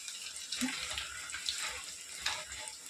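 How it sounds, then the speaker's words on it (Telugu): Cycle-style bondas deep-frying in oil over a medium flame, a steady, dense sizzle and hiss that continues evenly throughout at moderate loudness with no voices. "ఇలా కలుపుకుంటా ఫ్రై చేస్తే మంచిగా ఎగుతాయి, సమానంగా వస్తాయి."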